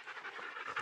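A puppy pants in quick breathy rhythm close to the mic, a brief burst of steady panting.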